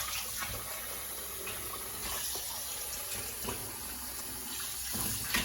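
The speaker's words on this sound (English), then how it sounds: "You're going to run some cold water to this lemon juice. And you're going to wash your fish." Cold tap water runs steadily into a sink over lemon juice while red snapper is being washed, a continuous soft rushing and splashing heard up close but fairly quiet.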